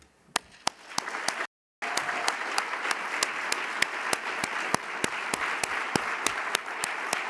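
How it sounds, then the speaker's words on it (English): At a student awards ceremony, an audience claps for Philanthropic Partner Award recipient Hudson, a steady round of applause with a few sharp nearby claps and a brief dropout early on. "please join me in giving a round of applause to this year's Philanthropic Partner Award recipient, Hudson"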